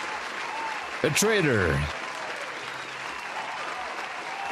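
Applause breaks out for a viewer during a live futures-trading stream, a steady wash of clapping that runs the whole clip while a voice briefly speaks near the start.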